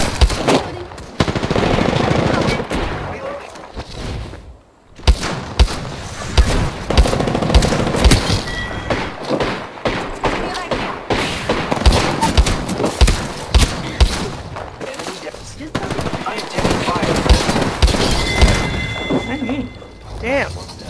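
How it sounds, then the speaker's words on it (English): EVA-8 shotgun blasts in a video game, loud repeated gunfire bursts and booms in rapid, dense succession over nearly the whole stretch, with a voice talking in between. "I have a shotgun."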